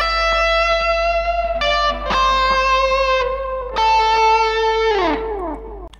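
Electric guitar with heavy distortion plays sustained notes and bends, loud and close, with a steady low hum underneath and no talking.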